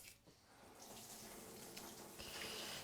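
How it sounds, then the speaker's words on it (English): Tap water runs steadily into a kitchen sink while food is rinsed under the stream, a constant close hiss and splatter that brightens slightly near the end, with no voices. "Just rinse it in the sink."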